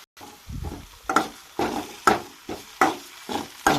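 Turmeric, ginger and garlic are stirred in a sizzling pan, a spoon scraping in regular strokes roughly every half second over a steady low hiss, close up and alone.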